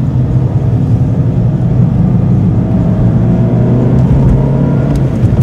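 A 2007 facelift Mini Clubman 1.6 pulls away in second gear, its engine a steady close drone with a low rumble throughout, no voices over it.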